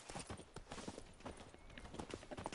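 Geralt's horse Roach in The Witcher game trots with a rapid, steady clip-clop of hooves, close and continuous but fairly quiet.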